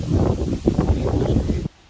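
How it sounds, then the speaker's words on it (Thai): Strong wind gusts across a garden in Germany, a close, rough rushing buffet against the microphone that fills the clip and then cuts off abruptly near the end, with no speech. "ลมแรงมากเลยตอนนี้"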